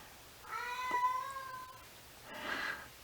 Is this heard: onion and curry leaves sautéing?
no